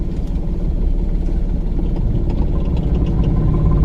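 A car's engine runs steadily at low revs as a learner driver eases off with the clutch during a driving lesson, a constant close hum with no talk over it.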